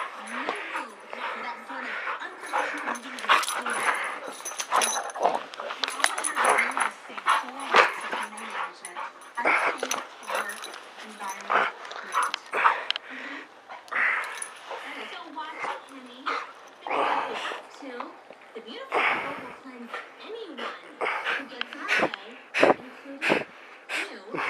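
A dog pants and wheezes hard with quick, ragged breaths and occasional whimpering yips, close and fairly loud throughout.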